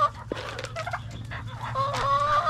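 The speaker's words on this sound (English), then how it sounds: "we've opened that door and we've moved some of those white chickens out on grass" White chickens clucking in a pen set on grass, made from a trampoline: several nearby birds give short, overlapping clucks and calls throughout.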